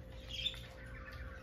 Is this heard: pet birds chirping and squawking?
yes